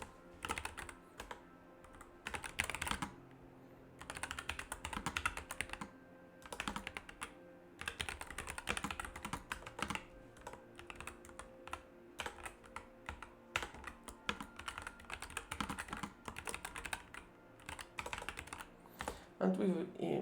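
Fingers type on a computer keyboard in a quiet, dense patter of irregular clicks and taps that runs without a break, with a few heavier keystrokes standing out.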